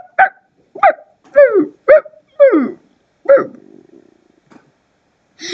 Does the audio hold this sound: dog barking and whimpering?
yes